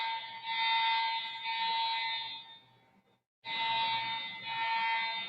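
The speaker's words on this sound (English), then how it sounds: "The fire alarm just went out at Levi Savior" A fire alarm at Levi's Stadium blares a loud, steady electronic tone, cutting out briefly before sounding again.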